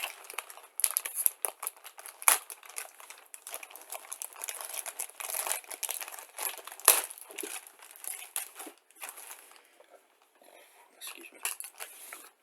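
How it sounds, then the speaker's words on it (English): A taped plastic screw bag from a Revell 1/25 Ford Bronco Half Cab model kit being pulled open, giving a quiet, close crinkling and rustling in uneven bursts with small clicks, and no talk. "so we have a large screw bag here, which is taped shut"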